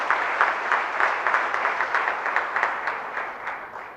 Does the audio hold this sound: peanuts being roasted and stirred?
no